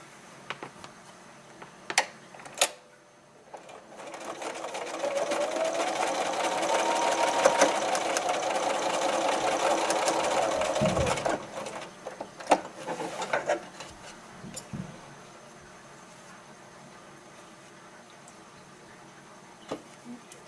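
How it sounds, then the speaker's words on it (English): A sewing machine stitches across a seam line on a small doll backpack, whirring steadily for several seconds between scattered clicks and handling taps in a quiet room. "And now we're going to sew across that line."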